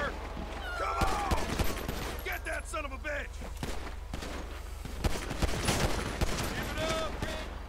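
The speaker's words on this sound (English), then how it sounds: "Who's got the machine gun?" Rapid machine gun bursts and scattered gunshots in a GTA 5 police-mod shootout crackle in irregular volleys, mixed with game effects and some talk.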